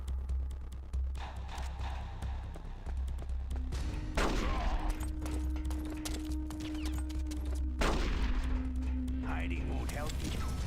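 Revolver gunshots ring out in a video game, a few sharp cracks spaced seconds apart over a low ambient rumble, with a voice speaking in between.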